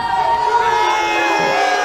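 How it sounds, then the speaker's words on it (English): Basketball crowd at a high school boys' game cheering after an explosive dunk, a dense sustained roar with whoops and shouts, loud and close throughout. "Especially with after that dunk, this crowd waking up"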